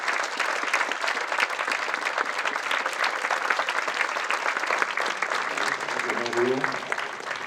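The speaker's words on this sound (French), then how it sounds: "Vous pouvez les applaudir." Audience at a French conference with the French voice cast of The Lord of the Rings applauds the arriving guests, dense steady clapping filling the room throughout, with a voice briefly heard near the end.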